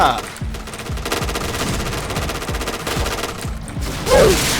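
Rapid automatic gunfire in a zombie shooter video game fires in quick repeated bursts of sharp shots, loud and close, with a brief break near the end before another loud blast.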